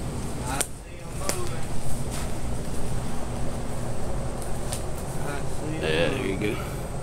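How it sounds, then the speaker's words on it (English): An air conditioner runs with a steady broadband whoosh of moving air, constant and fairly close, with a few sharp knocks and clatters breaking in near the start and a brief burst of rustling toward the end. "the air conditioner wasn't working the other day, but I hear air running"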